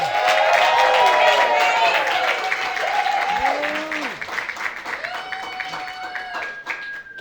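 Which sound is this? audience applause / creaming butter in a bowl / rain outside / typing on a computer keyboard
audience applause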